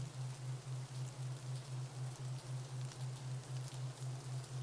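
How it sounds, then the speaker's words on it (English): Steady rain falls as a continuous broadband hiss with soft patter, thickening from drizzle, heard alone at low level under a pulsing low hum from binaural beats. "the drizzle turns into a steady rain"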